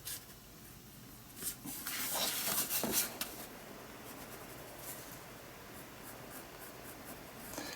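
Steady scratchy pencil strokes on paper, with a cluster of brisker, louder marks partway through before the quiet scratching resumes.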